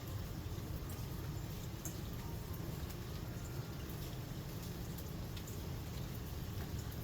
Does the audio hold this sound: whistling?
no